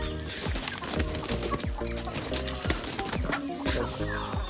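Rhode Island mix and asil crossbreed chickens in a poultry pen keep up a steady chorus of overlapping clucks and squawks, close and busy, with no clear talk.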